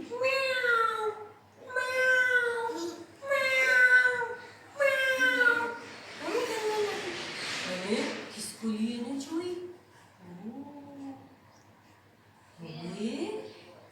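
A voice imitates a cat, giving a string of drawn-out meows in steady succession, followed by quieter, breathier mewing sounds.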